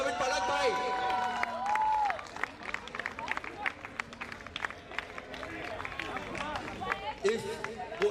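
Audience applause at a friends' sports league cricket event, a brief burst of clapping and cheering that gives way to scattered claps and crowd chatter.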